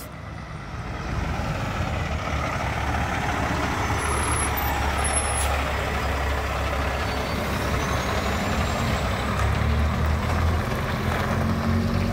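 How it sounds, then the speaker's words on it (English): An oversized Moore Company truck passes on a road in Blue Lake, California, its loud engine rumble steady and close throughout, with a brief air-brake hiss near the end. "The truck of Moore Company. Oversized."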